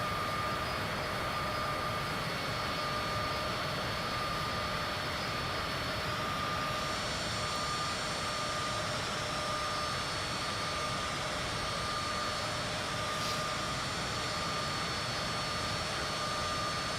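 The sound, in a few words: Cessna aircraft engine in Flight Simulator 2024 video game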